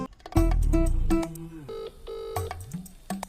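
A phone call being placed to a lineman: a brief thump, then electronic ringing and tone bursts in an irregular pattern, fairly close and clear, with no talking.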